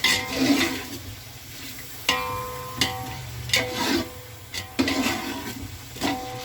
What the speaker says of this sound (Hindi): इसको चलाना है चम्मच।